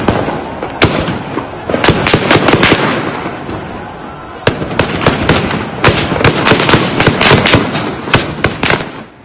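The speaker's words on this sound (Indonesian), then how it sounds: "Video lain diduga dari 8 hingga 11 Januari memperdengarkan rentetan tembakan tanpa henti" Sustained, dense volleys of sharp cracks and pops fire in rapid irregular bursts at an Iranian street protest, loud and echoing over a constant roar of crowd noise, with the firing pausing briefly before resuming.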